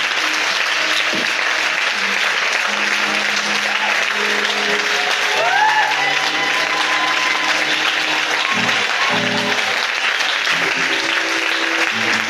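A church congregation claps and cheers for Jesus in loud, sustained applause that fills the room throughout, with voices and shouts rising through the clapping.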